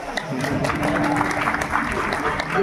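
An audience at a kirtan claps in a dense, continuous burst of applause, with a voice heard faintly beneath the clapping.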